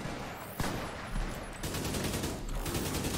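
Rapid bursts of gunfire in The Division 2 with sharp cracks and a dense rattling texture, loud and continuous like game combat effects.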